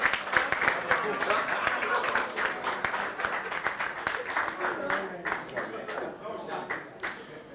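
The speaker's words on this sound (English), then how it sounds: "A round of applause." An audience applauds a fashion designer leaving an African fashion fund competition, a steady wash of dense clapping across the whole stretch that eases slightly toward the end.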